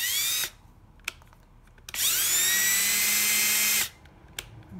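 A power drill bores a hole in a wooden picture frame, in two high-pitched whining bursts, a short one and then a longer sustained run, separated by quiet handling clicks.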